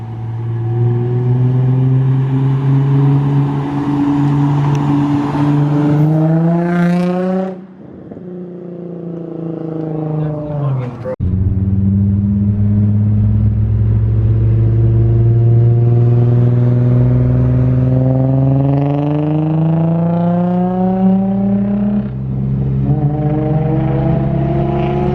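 A Nissan 350Z with a newly installed exhaust revs loudly and up close, its engine note climbing and falling through several throttle blips with a brief lull in between.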